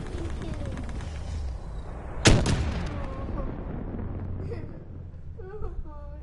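Gunfire in the video game Call of Duty, with one sharp loud shot cracking out midway over a steady background of game noise and lighter effects.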